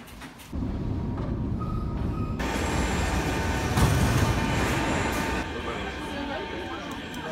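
A Kyiv metro train rumbles steadily, loud and close, with a brief rise in noise partway through as it runs along.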